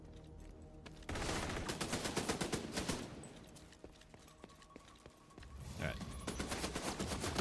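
Enemy turrets in The Division 2 fire long, rapid bursts of automatic gunfire that rattle loudly, then pause and start again. A voice speaks briefly between the bursts.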